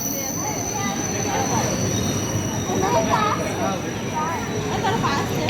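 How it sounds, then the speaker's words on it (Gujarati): A train arriving at a station rumbles and grinds close by with a thin high squeal from the wheels, while voices murmur in the background. "ચલો ટ્રેન આવી ગઈ છે."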